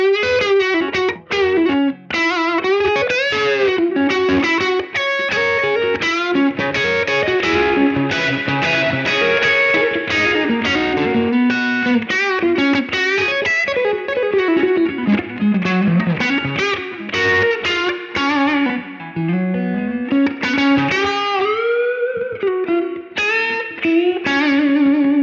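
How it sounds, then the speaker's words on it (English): Electric guitar played through a Blackstar amp head with distortion, its spring reverb gradually turned up from zero; a continuous, loud run of overdriven chords and single-note lines with no talking. "within this patch at the moment, it's increasing and decreasing the spring reverb"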